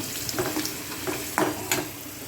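Breadfruit chips frying in hot oil on a stove, a continuous close sizzle broken by several brief scraping stirs, with no talk.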